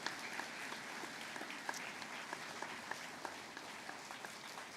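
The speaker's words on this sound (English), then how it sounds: "Can we give them a big round of applause?" A school assembly audience at a Harmony Day event gives steady, even applause, heard at a moderate distance and fairly quiet, with a few sharper claps standing out.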